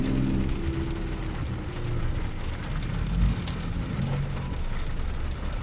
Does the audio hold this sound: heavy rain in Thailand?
yes